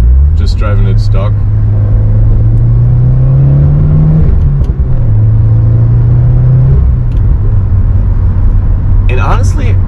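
Inside a Subaru WRX fitted with a throttle response controller, the engine drone climbs steadily in pitch as the car accelerates, then eases and climbs again, with someone talking over the continuous rumble.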